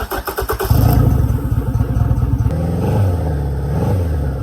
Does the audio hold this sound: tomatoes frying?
no